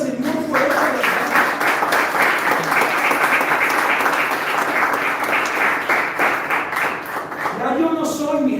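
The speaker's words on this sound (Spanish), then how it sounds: "Denle un aplauso al Señor por esta verdad" A church congregation applauding, producing loud, dense and steady clapping that fills several seconds, with a voice speaking briefly at the start and end.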